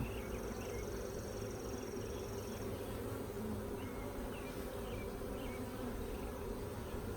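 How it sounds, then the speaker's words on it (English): Honeybees buzz around hive frames during a nucleus install outdoors, a faint steady drone with a few nearer passes and some handling noise. "Definitely see lots of bees."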